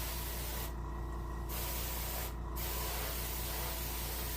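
Paint is sprayed onto a brook trout taxidermy mount in two short hissing bursts, the first longer than the second, close and fairly quiet over a faint background hum.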